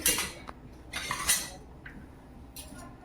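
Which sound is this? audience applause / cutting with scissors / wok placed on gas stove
wok placed on gas stove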